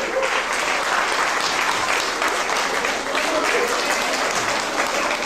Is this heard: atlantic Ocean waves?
no